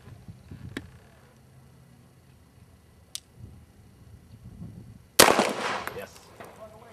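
Handgun shots at an outdoor shooting range during student training, with one sharp shot early, a fainter crack later, then a loud close report followed by echoing rumble, with quiet background between.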